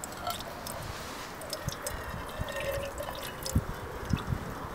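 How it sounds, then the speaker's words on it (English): Water pours into a GSI Pinnacle Soloist cooking pot outdoors, with irregular splashing and dripping that rises and falls, fairly close over a hissy background and with no talking. "So I'm just going to pour some water in."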